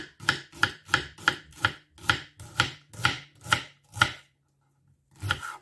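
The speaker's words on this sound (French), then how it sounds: "Le galanga, je le recoupe en plus petit." Knife chopping galangal into smaller pieces on a board, ten quick, evenly spaced close cuts, a brief pause, then one more chop, with no talking.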